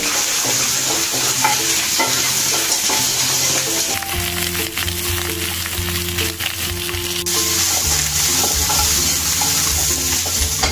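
Food stir-fried in a wok, a loud continuous hiss of hot oil mixed with rhythmic scraping and clanking of a spatula against the metal, no speech.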